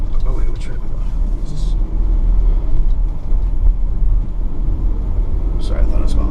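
Low, steady engine drone and road rumble from a 2015 Ford Transit 350 long-wheelbase low-roof van with a twin-turbo 3.5-litre V6 EcoBoost, heard from inside while driving, with faint ticks and a voice talking over it.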